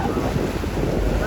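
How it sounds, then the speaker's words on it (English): Ocean waves roll onto the beach of West Nalaut Island, Palawan, a loud continuous rush of surf heavily buffeted by wind noise on the microphone, with no voices. "Look at them waves over there"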